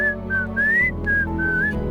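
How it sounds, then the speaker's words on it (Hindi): Someone whistles a short, clear tune of several sliding notes close by, over a low background hum. "अंदर उबल रहा होगा और बाहर सीटी बजा रहा है।"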